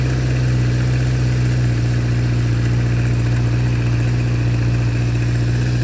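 A 1976 Honda CB550 motorcycle engine, a chopper build, runs at a steady, loud idle, with a constant low thrum and an even, unbroken throb from start to finish.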